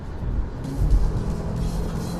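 Subaru SUV engine with a CVT transmission revving as it accelerates, a low rumbling drone that swells briefly, heard from inside the car.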